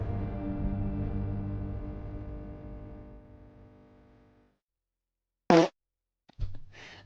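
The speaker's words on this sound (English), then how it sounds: "Just adding a fart sound for no goddamn reason." A comedic fart sound effect edited into a video plays as a short, sharp burst after a fading droning tone, followed by a second brief blast.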